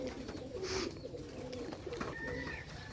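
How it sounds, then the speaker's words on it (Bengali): A pair of Rajshahi Giribaz pigeons perched on a roof give faint, repeated throaty coos against light background noise, with no talk. "রাজশাহী রিভার্স রাজশাহী গিরিবাস সুন্দর এক জোড়া কবুতর"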